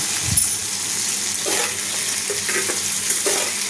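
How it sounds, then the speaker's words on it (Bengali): Dried Bombay duck, taro and jackfruit seeds being stirred and fried with salt in a pan, a continuous loud sizzle with a few scraping strokes of the spatula, close up, without talk. "লবণ দিয়ে আবারও ভালোভাবে নেড়েচেড়ে আমি ভেজে নিচ্ছি"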